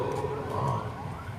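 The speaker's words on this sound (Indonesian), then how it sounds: "Apa itu? Ambulan lewat." An ambulance siren wails faintly in the distance, its rising and falling tone passing by outside during a religious lecture, with no talk over it.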